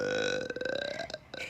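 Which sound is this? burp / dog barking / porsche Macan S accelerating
burp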